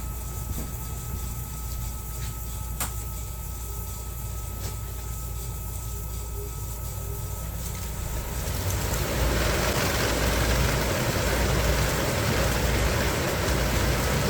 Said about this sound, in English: Okay, now the exhaust is going.